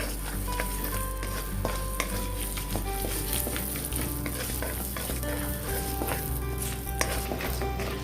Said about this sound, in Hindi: जैसे कि तेजपत्ता, जीरा, लौंग, काली मिर्च और मेरा जो इलायची लिया था वो। तो इसको मैं थोड़ा सा चला लूंगी।